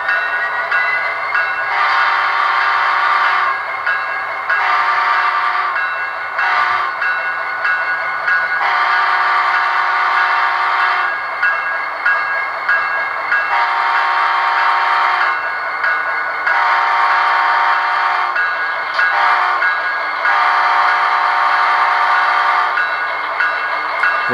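Athearn Genesis SD70ACE model diesel locomotive running with onboard sound, its engine drone cycling with repeated loud horn blasts that come in long sustained bursts with short gaps between them, close and prominent throughout.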